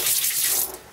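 Water runs hard from a high-pressure kitchen sink tap inside a camper van, a steady close hiss and splash that eases off near the end.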